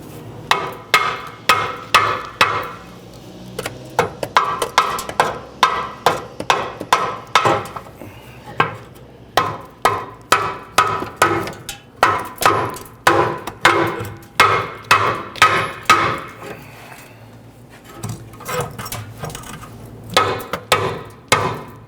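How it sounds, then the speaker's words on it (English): Repeated sharp metallic hammer strikes ring out in quick bursts on the rear upper ball joint of a 1999-2004 Jeep Grand Cherokee, dozens of blows in steady rhythm with brief pauses between series. "You might be able to use a hammer to go ahead and tap this back."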